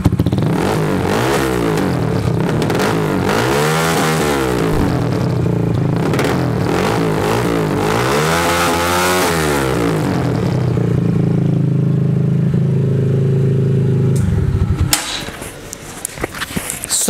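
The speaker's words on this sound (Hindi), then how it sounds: "अभी आइडलिंग में साउंड है इसकी, अभी इसे रेव करके देखते हैं योशिमोरा 250 सीसी पे कैसी साउंड प्रोड्यूस करेगा।" A 250cc cafe racer motorcycle with a Yoshimura exhaust, revved repeatedly in loud rising and falling sweeps close by, then settling into a steady rumble before the engine cuts off near the end.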